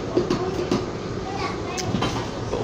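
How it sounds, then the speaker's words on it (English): Siemens SD160 CTrain light rail car 2455 on Calgary's Blue Line, heard from inside the cab: a steady rolling rumble with light rail clatter and occasional knocks, with faint voices in the background. "We're in the SD160 Siemens 2455, the Ctrain LRT."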